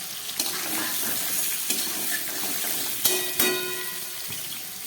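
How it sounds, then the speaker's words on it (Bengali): Flat beans and potatoes frying with tomato in a pan, a constant close sizzle broken by several sharp clinks and scrapes of stirring, no speech. "এবার শিম আলুটা ভালো করে ভেজে নিই, সঙ্গে দিয়ে দিচ্ছি একটু টমেটো।"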